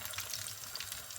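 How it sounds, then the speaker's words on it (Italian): Italian meatballs made from boiled meat frying in hot oil: a steady, bright crackling sizzle that fills the whole moment, close and fairly loud, with no talk. "A questo punto le mettiamo nell'olio bollente."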